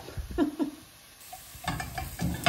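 Onion frying in a pan, a soft close sizzle broken by a few stirring scrapes and light clinks, the scrapes bunched at the start and again near the end with a quieter gap in between.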